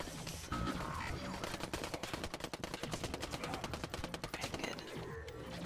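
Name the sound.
turrets firing in a zombie video game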